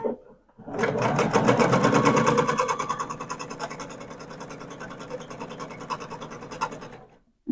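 A sewing machine stitches patchwork quilt pieces for a log cabin table topper in a fast, loud, rhythmic burst that eases in pace and then stops abruptly.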